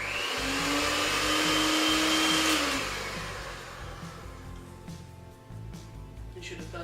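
An electric mixer creams butter with brown and white granulated sugar, a loud motor whine for about three seconds that then winds down to a quieter hum, with voices talking over it.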